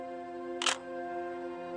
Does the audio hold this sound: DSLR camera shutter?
yes